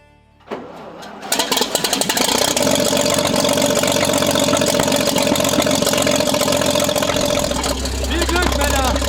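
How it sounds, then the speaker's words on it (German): A Hetzer tank destroyer engine cranks and catches, then settles into a loud, rumbling idle with a heavy low drone near the end, close and dominant, with voices briefly underneath. "Motor an."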